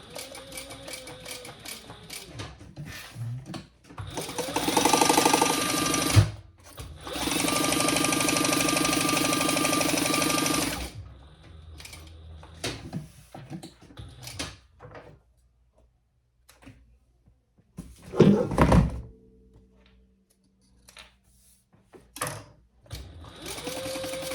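Sewing machine basting around the edge of a sling bag: two sustained bursts of rapid stitching, then handling clatter, fabric shuffling and a few short knocks.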